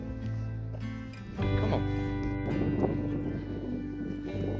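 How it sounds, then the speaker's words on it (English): Wind buffeting a microphone on an exposed hilltop summit in the Peak District during a hike, a strong low rumble that surges louder partway through and stays steady, with no talking. "Very windy."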